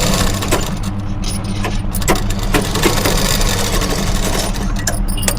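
A sewing machine runs steadily, stitching a lining blouse in a tailoring class, with a continuous mechanical whir and dense rapid rattle that holds level throughout, close by and fairly loud.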